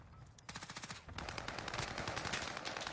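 Rapid automatic gunfire from the Modern Warfare video game, loud, close bursts of shots firing in fast rhythmic succession through the whole stretch, with no talking.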